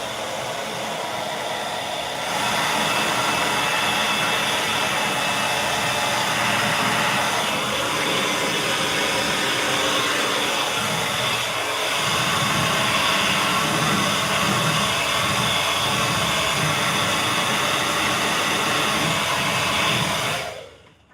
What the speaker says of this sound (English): I'm gonna take my dryer. It's gonna be loud, so I apologize.